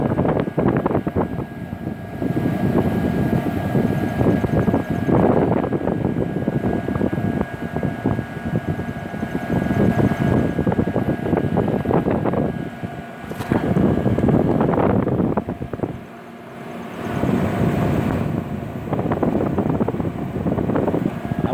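A 1981 Emerson Quiet Kool Dynamic Series 18,000 BTU Watt Watcher window air conditioner blows air in a steady, loud, broad whoosh with a faint whine, running continuously with brief dips and no talking.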